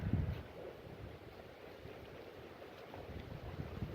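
Gusts of wind buffet a microphone outdoors on a blustery day, producing a faint, low rumbling roar that rises and falls with no other clear sounds.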